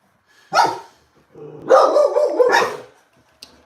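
A puppy gives a short bark, then a longer run of yelping, whiny barks, close and fairly loud, with near silence between bursts.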